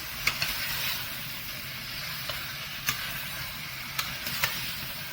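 Mutton keema roasting in a hot pan, a steady soft sizzle broken by a few scattered clicks of a spoon or spatula stirring, fairly quiet and alone with no voices.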